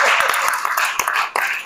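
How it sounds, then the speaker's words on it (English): Brief applause from an audience at an industry panel event, a short scatter of claps with a few sharper individual hits standing out. "That deserves a round of applause."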